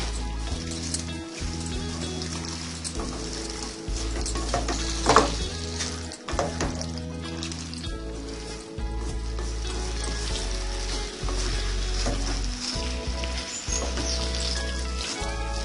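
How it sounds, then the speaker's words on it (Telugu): Chicken pieces and onions are stirred together in a frying pan for a Hyderabad-style chicken curry, with a steady sizzle and repeated clanks and scrapes of the spoon against the pan. "చికెన్ ముక్కలు వేసి ఉల్లిపాయ చికెన్ ముక్కలు బాగా కలిసేలా కలుపుకోవాలి."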